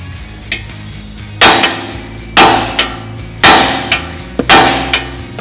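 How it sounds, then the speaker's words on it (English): Loud metal-on-metal hammer strikes drive a shock bolt out of a 2021 Ford Mustang GT 5.0 front suspension, coming as about five heavy blows in uneven pairs with a ringing decay and a few lighter taps between. "you do want to have to hit it and hammer it out to get the bolt on the other side to push through"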